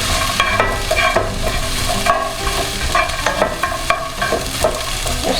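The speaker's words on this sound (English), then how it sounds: "let's give our onions a little stir." Onions frying in a pan for Tex Mex hash browns give a steady close sizzle, with repeated scraping and clatter as they are stirred.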